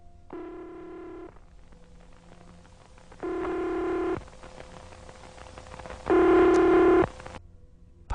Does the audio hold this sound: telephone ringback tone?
yes